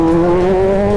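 A loud Kawasaki Z1000 motorcycle with a very loud setup revs steadily, its engine note holding a strong, sustained drone throughout at close range, with no talk over it.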